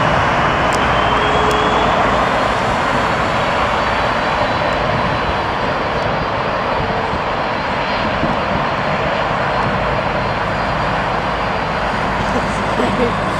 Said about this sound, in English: N965AM, Aero Mexico, first landing on 27 left today.